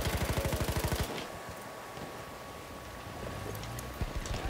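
Gunfire in a PS4 squad-based online shooter: a fast burst of automatic shots opens, then sporadic distant pops and battle rumble continue under ambient game noise.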